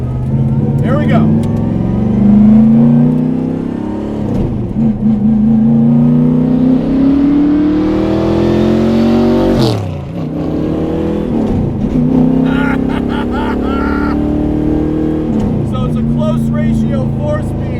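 A 600 HP 1972 Corvette autocross car by Detroit Speed accelerates hard, its loud engine rising and falling through gears with a sharp rev peak near the middle, heard from inside the car while someone talks over it.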